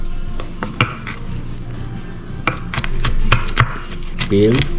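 Garlic being chopped with a knife on a cutting board, a series of sharp irregular taps, close and fairly loud, with brief kitchen clatter and a short voice near the end.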